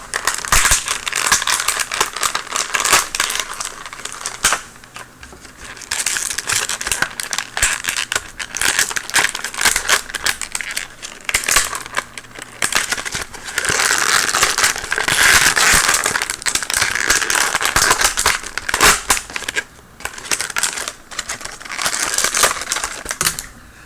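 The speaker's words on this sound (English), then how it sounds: "Let's get him out of his packaging." A Marvel Universe Spider-Man 2099 3.75-inch action figure being pulled from its packaging: a long, loud run of close crackling, crinkling plastic and cardboard with sharp snaps and tearing bursts, and no talking.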